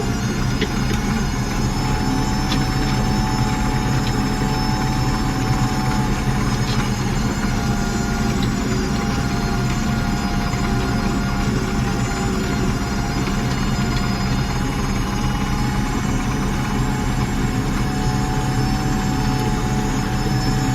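A farm tractor pulling a manure spreader with a broken belt drones loudly and steadily throughout, a dense, unbroken engine roar with no pauses or voices.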